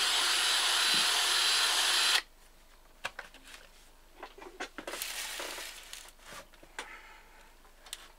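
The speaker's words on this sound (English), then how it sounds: "use electric drill by connecting a rubber tube around the stem" A loud, steady electric drill whirs for about two seconds, turning an Austin Seven engine valve via a rubber tube on its stem, then stops, followed by quieter scattered clicks and handling noises.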